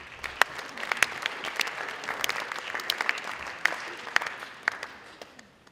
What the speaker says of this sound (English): please give a round of applause for my foil